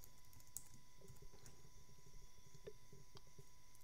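Faint, scattered keystrokes on a computer keyboard, typed in an irregular rhythm against a quiet background hum.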